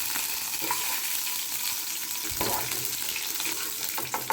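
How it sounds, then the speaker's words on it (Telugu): Green chillies fry in hot oil in a pan, giving a steady, close sizzle with faint stirring scrapes and no talk. "పచ్చిమిర్చి అనేది మంచిగా ఫ్రై అయింది"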